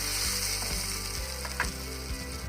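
A potato block drops into hot oil and butter for searing, giving a loud, steady sizzle with a faint rhythmic ticking running through it, no talking.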